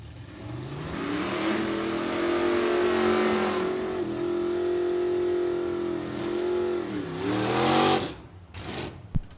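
A 1965 Dodge Coronet with a 440 Max Wedge engine and a vintage Plymouth roar off the line at a drag race, engines revving hard and rising in pitch through the gears, loud and close, then fading as the cars pull away.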